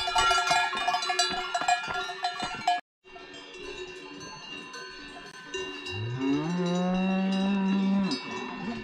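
Cowbells clank continuously nearby at an alpine lake, then a cow lets out a long, loud low moo that swells over the ringing.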